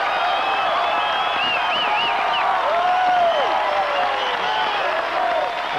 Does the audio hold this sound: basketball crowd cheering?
yes